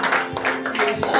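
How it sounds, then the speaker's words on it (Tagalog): A church congregation claps in a short, loud burst of applause with voices mixed in, the hand claps dense and close. "Mas malakas na palakpak."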